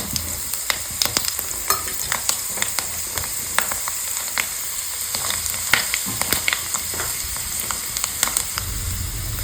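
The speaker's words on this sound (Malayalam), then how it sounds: "അരി ഇട്ട് കൊടുക്കാം എണ്ണ കൂടി ഇട്ട് കൊടുക്കാം അരി ഒന്ന് പൊരിയട്ടെ" Rice frying in oil in a pan for a Kerala-style spinach stir-fry, a steady dense sizzle with crackling pops scattered throughout, close and fairly loud, with no talking.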